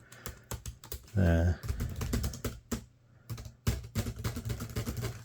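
Typing on the keyboard of a circa-2007 Dell D630 business laptop: quick, close clacking keystrokes in bursts with brief pauses, and someone speaking briefly over them.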